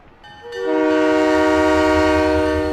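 Departing train in the Halo 3: ODST video game: a loud, sustained multi-tone horn swells in after a brief lead-in and holds steady with a low rumble beneath, no talking.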